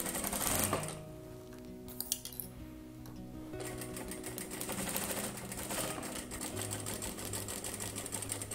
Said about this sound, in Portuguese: Agora eu vou iniciar aqui o processo de costura, ó, passando a costurinha aqui, fixando o zíper com forro e o tecido principal.